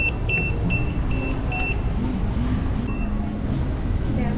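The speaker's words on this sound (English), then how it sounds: "Order a pizza and you get a little buzzer here." A restaurant pizza order buzzer at an RV resort gives several short repeated high beeps in the first two seconds, heard over steady background noise and low murmur.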